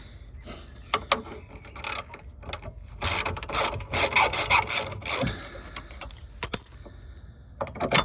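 Ratchet wrench backing out a suspension arm bolt on a Jeep Grand Cherokee Limited front lower arm, heard as irregular bursts of close metallic clicking and mechanical rattling with brief pauses in between.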